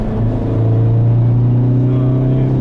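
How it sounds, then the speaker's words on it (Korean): A steady low engine drone with a buzzing vibration rattle inside a Hyundai Veloster N with manual transmission, clutch being released under throttle, continuous and fairly loud throughout. "요거 떨리는 소리 들리시죠?"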